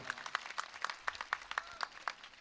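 Audience at a Gujarati folk dayro performance clapping in rhythm, a faint, regular beat of claps at roughly even intervals, distant and quiet, with no talk over it.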